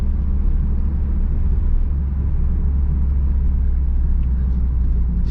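A manual car engine labours heavily in third gear below 40 km/h, a steady low, dense rumble heard from inside the cabin with no change in pitch.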